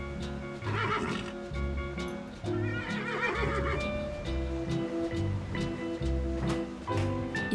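A horse on a Vaucluse farm where the land is still ploughed by horse neighs and whinnies loudly several times, with hoof clip-clops between the calls, close by and without talk.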